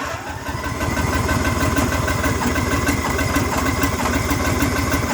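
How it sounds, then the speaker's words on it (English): A cold X T1 Enduro series garden tractor engine turns over and catches after a brief quiet moment. It then settles into a loud, steady, chugging idle close by, with no speech over it. "Now I turn the key towards the porch there, and it will start the tractor."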